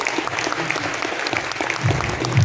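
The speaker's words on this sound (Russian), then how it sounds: "давайте поздравим еще большими аплодисментами нашего лучшего менеджера" Sustained applause from an audience at an IT bootcamp awards ceremony, honouring the best manager; steady, dense clapping throughout, growing slightly louder toward the end.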